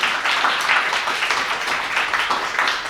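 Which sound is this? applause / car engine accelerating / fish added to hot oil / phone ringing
applause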